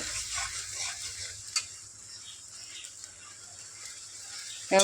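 Spice paste sautés in a pan, a steady close sizzle running throughout with a few faint scrapes and a clack at the end.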